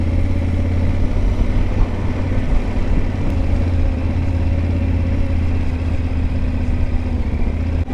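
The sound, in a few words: motorcycle engine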